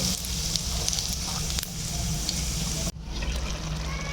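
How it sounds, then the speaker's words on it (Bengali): Ginger and a pinch of asafoetida sizzling in hot oil for tempering chana dal, a steady frying crackle that briefly cuts out and resumes, close and moderately loud. "আদা ফোড়ন দিচ্ছি আমি এটা আর অল্প হিং"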